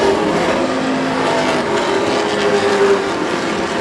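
Stock cars racing bumper to bumper on a track, a loud continuous engine roar held steady throughout with no speech.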